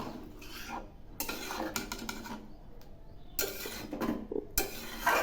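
A spoon scraping and clattering against a pot while stirring a thick Bengali taro curry, in irregular bursts of metallic scraping with brief pauses between.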